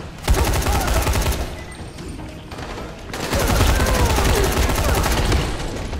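Gun firing in the video game Dying Light, dense rapid bursts of automatic fire in two long volleys separated by a short pause, loud and close.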